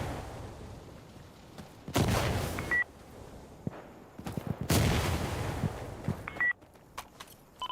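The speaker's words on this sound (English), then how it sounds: "Requesting minigun support at this target." Sustained bursts of helicopter minigun support fire from Insurgency Sandstorm roar in two long loud volleys, separated by quieter stretches with scattered distant shots and short electronic beeps.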